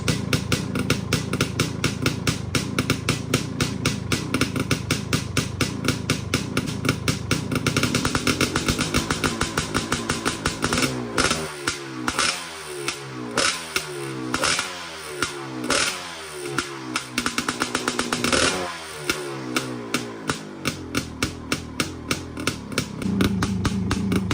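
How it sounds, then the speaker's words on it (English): A loud, throaty Suzuki Quadzilla LT500 ATV engine with an FMF aftermarket exhaust idles with a deep, choppy exhaust rumble, punctuated by a few sharp revs that briefly rise and fall. "I don't think there's a better sounding idle on any ATV"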